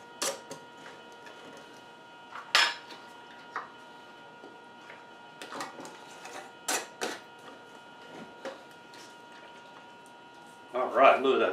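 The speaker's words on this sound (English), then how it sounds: "I'm going to put a lid on it." A lid goes onto a quart jar of apple-infused bourbon: scattered light clicks, taps and small scrapes spread over several seconds, ending in a brief rattling twist.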